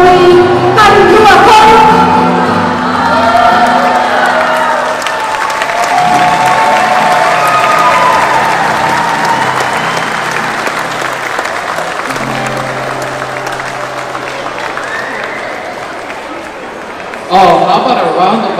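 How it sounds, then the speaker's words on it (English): Audience applause at an outdoor hula show during a Maui ho'olaule'a, a steady, dense clapping that runs loud across the whole stretch with crowd noise and voices underneath, then swells again near the end. "how about a round of applause, ladies and gentlemen?"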